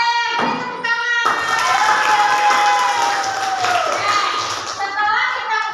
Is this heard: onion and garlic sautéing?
no